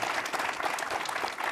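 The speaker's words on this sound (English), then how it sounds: "So give him a round of applause." Audience applause at an entrepreneurial challenge event: a steady, dense wash of clapping from a crowd that fills the whole moment at an even level.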